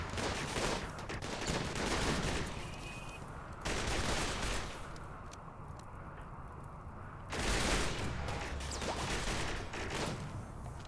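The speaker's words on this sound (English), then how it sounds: "they're going to get torn apart by the turrets" Automated defensive turrets in the game Rimworld fire on a charging group of buffalo, sustained bursts of rapid gunfire rattling in loud waves with brief lulls between volleys.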